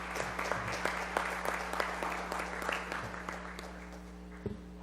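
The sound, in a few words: seminar audience applause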